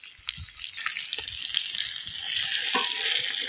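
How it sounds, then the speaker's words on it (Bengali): Dried puti fish and chillies fry in a pan with a loud, bright sizzle, broken by scraping stirring strokes and crackles that thicken into a denser hiss. "মরিচ শুটকি মাছ ভাজা হয়ে গেছে।"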